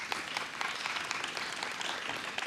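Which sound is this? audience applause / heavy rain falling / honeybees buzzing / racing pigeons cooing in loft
audience applause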